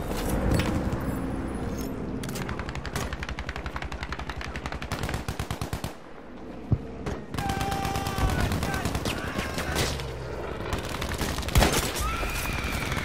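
Rapid gunfire in the video game Battlefield V, with bursts of shots rattling through busy battle noise and occasional louder single blasts, while players talk over the action.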